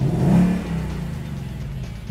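A car engine revs with loud exhaust in its track drive mode, opening with a rising surge and then settling into a steady, close, throaty rumble.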